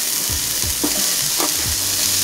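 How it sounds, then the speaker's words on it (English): Onion pieces hitting hot olive oil in a pan, a loud, dense sizzle that fills the moment with a few scraping stirs over it, close up and without any speech. "Now that your pan is hot, you're gonna add your cebolla."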